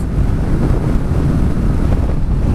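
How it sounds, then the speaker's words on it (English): Wind roars and buffets against a helmet-mounted microphone on a moving motorcycle, a loud, dense, unbroken rumble that fills the whole moment with no speech. "I'm not sure if the microphone is picking up the wind on the helmet"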